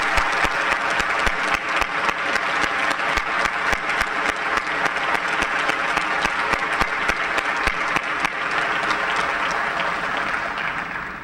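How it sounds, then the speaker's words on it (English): Sustained loud applause from a large audience at a 2001 senior academic recognition ceremony, dense clapping continuing steadily for about eleven seconds and easing slightly at the end. "Please join me in one final round of applause for all who attended today."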